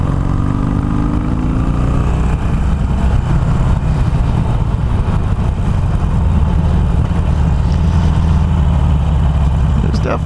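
A Harley-Davidson Iron 883 motorcycle with an air box mod and flashed tuning rumbles steadily nearby, its deep exhaust note droning loud and unbroken from start to finish.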